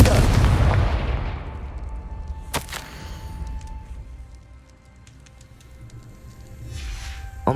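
A Confringo blasting spell in Hogwarts Legacy bursts in a loud, booming explosion that decays into rumble, followed by a sharp crack and lingering low ambience.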